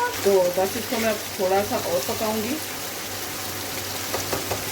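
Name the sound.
chicken mughlai handi cooking in oil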